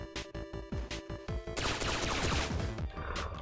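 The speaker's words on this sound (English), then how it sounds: "the explosions are a bit, excessive, if you ask me" Explosions in the video game Mighty Aphid 2, first several separate sharp blasts in a stuttering rhythm, then a sustained roaring barrage of overlapping detonations, loud and near.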